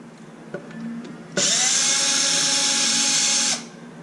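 A power driver removes screws from an XMAXX 8S RC car with a loud, steady high-pitched whir lasting about two seconds, after a few faint clicks of handling.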